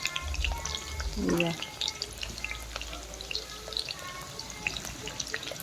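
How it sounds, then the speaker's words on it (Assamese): Potato pieces sizzle and crackle steadily in hot oil while a chicken dish is being prepared, with a brief spoken word near the start. "আলুকেইডোখৰ ফ্ৰাই কৰি আছোঁ"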